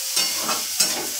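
Cumin seeds, onion and garlic frying in a pan for a light egg curry, giving a steady close sizzle with soft scraping swells from stirring.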